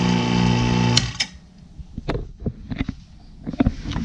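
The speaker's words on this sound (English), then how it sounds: "now the vacuum pump is only pulling vacuum from here" An electric vacuum pump running on a car A/C system, a steady droning hum for about a second before it is switched off, then scattered clicks and handling noises.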